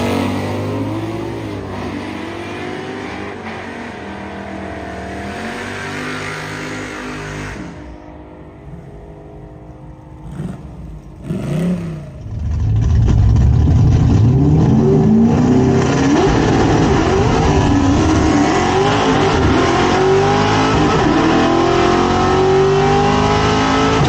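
A 1968 Ford Torino makes a drag racing pass with a hydraulic clutch: loud engine idling and revving, a brief drop during a shift or launch, then a sustained roaring acceleration with rising tone, close and dominant, no talk.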